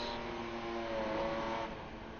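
A stock race car with a Chevrolet 230 cubic inch straight six and automatic transmission drones steadily, the engine hum held at a moderate distance, fairly quiet and continuous, with no voices over it.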